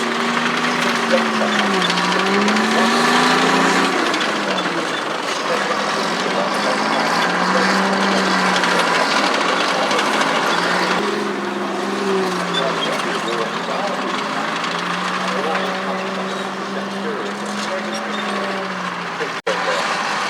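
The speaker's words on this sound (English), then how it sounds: "when these tanks drive around, different tanks have obviously different types of engines" Heavy World War II tank engines rumble and idle steadily throughout at Tankfest, with pitch rising and falling as they rev, a dense mechanical drone with no clear pauses.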